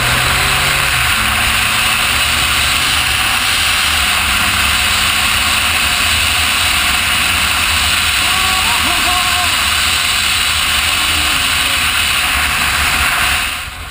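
A Triumph Rocket 3 Roadster motorcycle is ridden at around 30 in a steady gear, its engine a low drone beneath a heavy, constant rush of wind.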